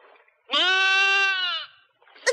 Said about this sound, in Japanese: 羊の中では一番気の利くやつさ